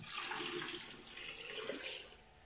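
Water pours in a steady, splashing stream into a pot for about two seconds, then quickly tapers off.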